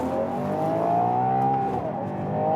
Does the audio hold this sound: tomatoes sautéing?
no